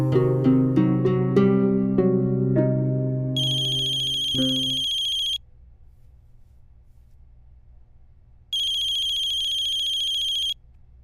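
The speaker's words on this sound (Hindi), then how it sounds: "पापा प्लीज फोन मत उठाना" A mobile phone ringtone plays in a Hindi-dubbed action movie scene: a melodic chime sequence, then two sustained bright electronic ring bursts separated by a quiet pause.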